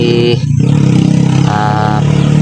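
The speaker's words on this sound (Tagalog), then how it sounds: "kasi maingay yung motor ng kapitbahay." A motorcycle engine revs loudly nearby, its pitch rising and falling in short bursts over a rumbling idle.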